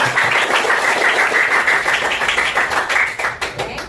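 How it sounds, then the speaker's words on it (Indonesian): A classroom of students clapping together after a correct answer in a lesson, steady rhythmic claps filling the room, with faint voices mixed in. "tepuk tangan untuk kita"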